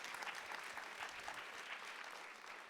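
An audience claps in a hall at a World Food Day event, a steady round of applause from many hands that sounds fairly distant and faint and holds even throughout, with no voices above it.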